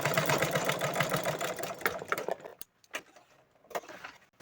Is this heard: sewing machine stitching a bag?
yes